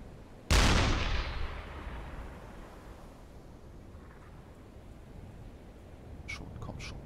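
A single loud, close blast of heavy gunfire in the submarine game UBOAT, followed by a long decaying rumble, with faint distant shots and crackles near the end.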